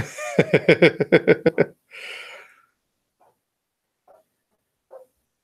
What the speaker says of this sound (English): You have the dogs out there barking